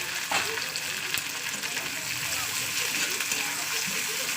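Tomato, green chillies and coriander frying with onions in a pan, a continuous close hissing sizzle with occasional soft stirring scrapes.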